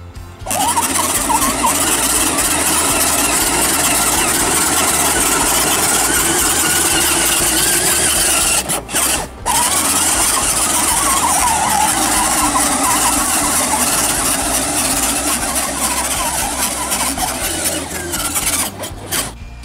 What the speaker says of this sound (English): Are you riding your Dareway on the grass?